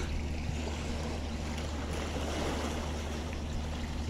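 Small waves lap steadily at Parigi fishing harbour beside moored fishing boats on a calm morning, a continuous soft wash with a low rumble, no voices.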